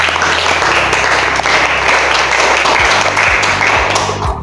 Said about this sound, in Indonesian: Berikan aplaus dulu kepada kelompok 3.